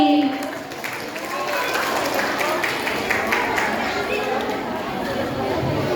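Audience applause after a school drama performance of "Putri Serindang Bulan" by a grade 7 class at a school festival: steady, dense clapping mixed with crowd chatter, moderately loud throughout.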